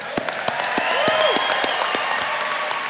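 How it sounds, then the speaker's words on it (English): Graduation crowd at an apprentice shipbuilders' ceremony breaks into loud sustained applause with scattered cheers and whistles, a dense clapping wash with a few sharper claps on top, no talking. "feel free to applaud, feel free to cheer, feel free to make some noise"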